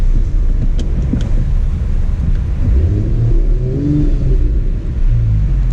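A Mercedes CLS53 AMG straight-six with its exhaust valves open idles and rumbles deeply nearby, a steady low burble with slight swells, heard alone.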